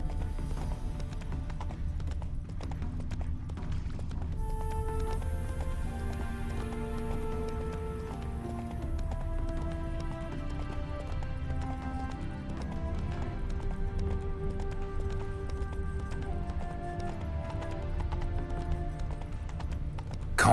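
Roach, Geralt's horse in The Witcher 3, trots steadily with a continuous clip-clop of hooves, close and even, while a musical score with sustained tones plays underneath throughout.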